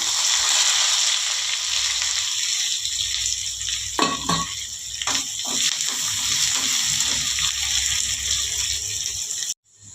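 Onion goes into a hot pan and sizzles, a continuous broad frying hiss with a few stirring clatters, close and fairly loud, with no talking and a sudden cutoff at the end.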